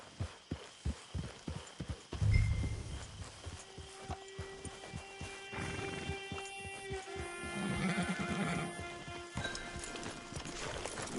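Hooves of a horse in Red Dead Redemption 2 clip-clop in a steady walking rhythm near a camp, clear at first, then carrying on beneath game music and ambient sound.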